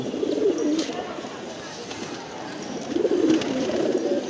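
Pigeons coo in a loft, with several soft, low, rolling calls in two bursts under a steady room hiss.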